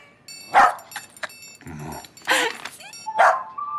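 A dog barks in close, sharp bursts, three or four times, with a low growling rumble between barks.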